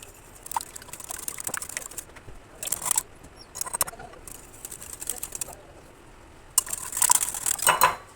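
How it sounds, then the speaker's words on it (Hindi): A whisk clinks and scrapes through liquid pancake ingredients in a bowl, in irregular bursts of brisk metallic rattling separated by short pauses, with the busiest stretch near the end. "अब इसको मिक्स करेंगे, इसको अच्छी तरह मिक्स करेंगे कि ये आपस में चीज़ें हल हो जाएं"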